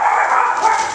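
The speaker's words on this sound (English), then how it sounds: "Barking at the door." A dog barks at the house door, loud and close, a single sustained rough burst of barking filling the moment with no one talking.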